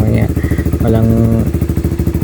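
Rusi Flash 150X motorcycle fitted with a DBS exhaust pipe, idling nearby with a steady pulsing putter; someone talks over the engine for most of the stretch.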